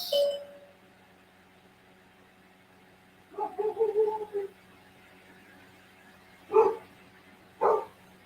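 A dog barks indoors: a short cluster of barks in the middle, then two single sharp barks near the end, fairly close and loud against a quiet room.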